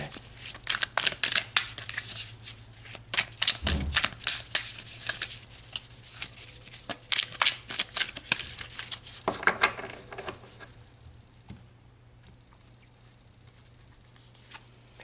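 Tarot cards being shuffled and handled, a busy run of soft papery riffles, flicks and crinkles close by, louder through the first ten seconds and then thinning out; a low steady hum sits underneath and no one speaks.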